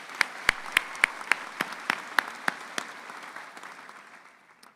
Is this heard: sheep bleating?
no